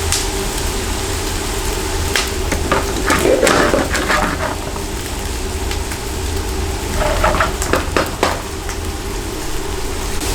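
Meat sizzles steadily in a frying pan for a white ragu pasta, a close, continuous crackling hiss with a few louder spatters and occasional utensil sounds.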